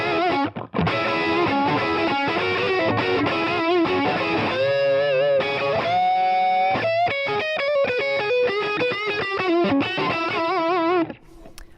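An electric guitar with heavy distortion plays a fast descending run that includes a flat 5, a dense string of notes ringing continuously before stopping abruptly near the end.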